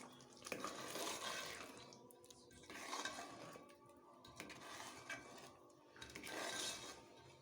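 Pistachio paste being stirred into chicken masala in a pot, with repeated scraping, wet stirring strokes coming in several bursts, fairly close and moderately loud.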